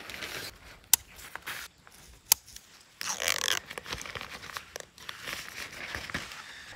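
Nylon fly sheet of a Naturehike CloudUp 2 lightweight tent being handled outdoors: close crinkling and rustling fabric with a couple of sharp clicks, growing into steady swishing and crumpling in the second half, with no talking.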